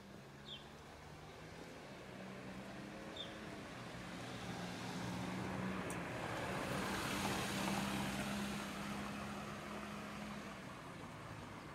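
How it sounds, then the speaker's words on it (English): A car rolls past at a distance, its low hum swelling and then fading over a steady wash of background traffic noise. "That was a car"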